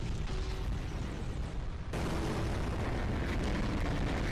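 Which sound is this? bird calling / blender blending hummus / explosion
explosion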